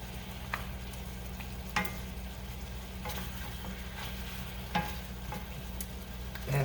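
Apples cooking in butter and sugar sizzle steadily in a pan while a wooden spoon stirs them, with a few distinct scraping knocks against the pan amid the constant frying hiss.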